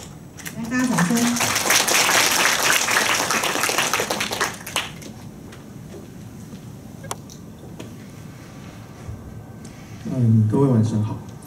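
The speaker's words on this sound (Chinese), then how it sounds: "来，大家掌声。" An audience at an evening interior-design talk gives a burst of applause lasting several seconds before it fades into a speaker's voice, with brief talking also heard at the start and end.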